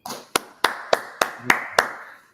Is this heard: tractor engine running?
no